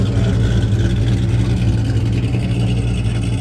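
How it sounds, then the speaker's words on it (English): A small, old outboard motor runs steadily at a hot rod gathering, a dense, continuous mechanical drone heard up close. "And he's got a little old outboard."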